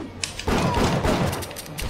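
Pistol fire in the BioShock video game: a sharp shot, then a dense, loud burst of gunfire and impacts lasting over a second, close up and with no speech over it.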